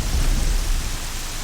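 Heavy rain pours with a deep rolling thunder rumble in the Horizon Zero Dawn game world, a dense, loud and steady wash of noise with no voices.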